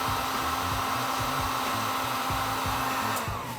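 Heat gun blowing steadily during a screen printing job, a loud continuous airy roar with a motor hum underneath, close and unbroken, easing slightly at the very end.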